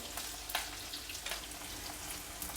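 Three green chillies sizzle gently in a pan, a faint crackle and hiss with a few soft clicks of a spoon, quiet and close.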